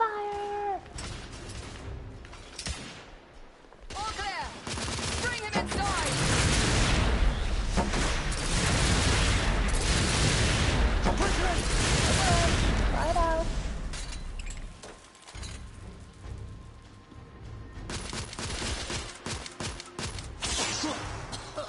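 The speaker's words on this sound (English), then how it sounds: "Brain, lay down suppressive fire" Sustained suppressive gunfire rattles through a loud firefight in the video game The Order: 1886, with dense overlapping shots and booms that build to a heavy middle stretch, then thin out as voices call out over scattered shots.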